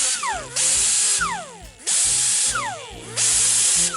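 An air tool runs on about 120 psi shop air during metal work, loud close hissing blasts in three long bursts, each swelling and cutting off with falling whines between them.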